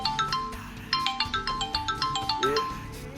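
A phone rings with a repeated electronic melodic ringtone, fast regular pulsing tones continuing steadily throughout, fairly loud and close, with no talking over it.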